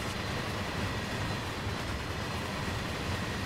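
Freight train in Train Sim World 2 near Dresden, rumbling past as a dense, steady roar of rolling wagons with no breaks, fairly loud and close.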